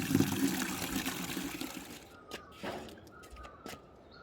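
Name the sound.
spring water flowing while being collected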